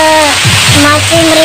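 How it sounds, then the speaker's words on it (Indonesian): Steady rain falling in a park, a dense continuous hiss that fills the short stretch, with faint tonal hum and low murmur underneath. "hujan-hujan di sini"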